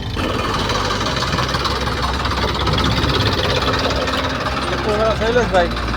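A tractor engine runs with a steady, knocking drone in a wheat field during sowing and fertilising, loud and continuous throughout, with a voice talking over it near the end.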